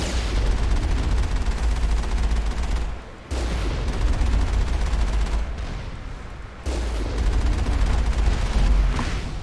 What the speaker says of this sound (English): Oh god, they're shooting at me.